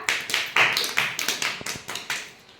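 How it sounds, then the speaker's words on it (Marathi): First-grade children clap loudly for a classmate in a classroom word game, a quick burst of sharp, closely spaced claps that taper off over a couple of seconds. "अनुष्कासाठी जोरात टाळ्या होऊन जाऊ द्या"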